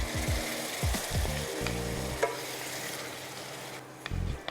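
Ground tomato paste meets a hot pan and sets off a loud frying sizzle among clattering utensil knocks, then the hiss steadies and gradually softens.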